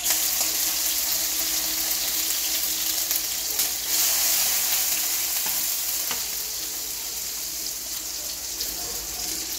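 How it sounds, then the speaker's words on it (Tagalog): Garlic and onion sautéing in oil in a pan give a loud, continuous crackling sizzle that stays close and fairly even throughout, easing off slightly near the end. "magigisa na tayo ng bawang at sibuyas."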